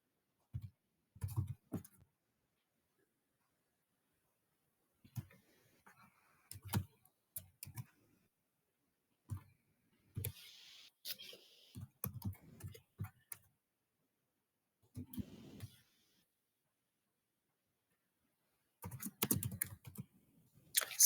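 Keys on a computer keyboard clatter in scattered short bursts with pauses between them while code is written in a quiet room.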